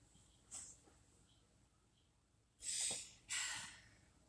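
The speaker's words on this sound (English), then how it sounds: "Dog noises, sorry." A dog makes short snorting, huffing bursts indoors: one brief puff early on, then two louder, longer snorts close together near the end, over quiet room tone.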